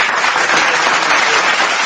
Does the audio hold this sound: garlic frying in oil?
no